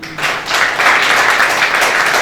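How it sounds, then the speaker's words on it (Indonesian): A church congregation at a Sunday service breaks into brief, loud, dense applause, a steady wash of clapping with no talk over it. "Tepuk tangan buat Tuhan."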